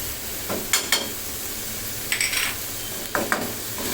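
Chicken coated in chili powder, garam masala and cumin being stirred in a pan, a low sizzle under several short bursts of spoon scraping and clinking against the metal.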